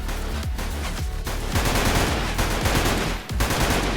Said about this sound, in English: He's shooting at me from way off screen now.